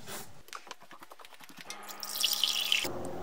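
Water drips and then pours steadily from a tap or filter into a pet's bowl, starting with scattered drops and building to a brief bright splash of running water that stops abruptly.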